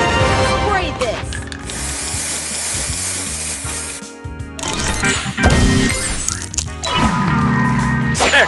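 Spray booster effect in the mobile match-three game Match Masters: bursts of hissing spray and crackling tile effects over upbeat game music, with short pauses between bursts and game voice announcements.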